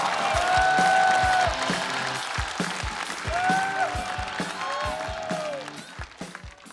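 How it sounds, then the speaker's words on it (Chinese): An audience applauds to welcome a stand-up comedian onto a Chinese comedy stage. The clapping is dense and steady, mixed with rhythmic band music and bright tonal swoops, then slowly eases off. "掌声有请"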